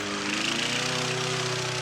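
A nearby lawn mower drones with a steady, rattling engine note, brief and constant as a neighbourhood nuisance noise.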